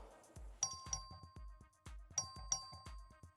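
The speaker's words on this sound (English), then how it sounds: "Clerk, ring the bell." A small legislative chamber bell in the Texas House dings twice in quick pairs, bright and metallic, over a steady thumping background rhythm; the rings are thin and tinny rather than loud.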